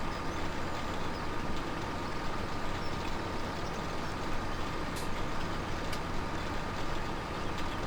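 A tractor engine in Farming Simulator 17 drones steadily and loud throughout, a broad, unbroken rumble with a couple of faint clicks near the end and no voices.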